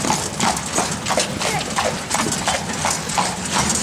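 A horse's hooves clip-clop in a steady walking rhythm on a tourist path at Petra, Jordan, close and fairly clear, with faint voices in the background.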